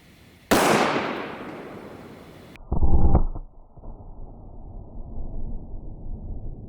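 A 9mm concealed carry pistol fires one loud, sharp shot with a hissing decaying tail, followed by a brief clattering burst about two seconds later, then a low rumbling background, with no talking.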